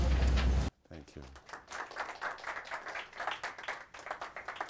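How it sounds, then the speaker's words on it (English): Audience clapping follows the welcome of a lecture speaker; a loud rumble cuts off abruptly, then scattered clapping builds into moderate, uneven applause with some speech mixed in. "I hope you're applauding her"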